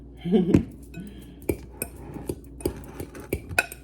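A utensil scrapes and taps against a hot skillet while a plant-based breakfast scramble with nutritional yeast is stirred, giving a run of close, irregular clinks and scrapes with no talking.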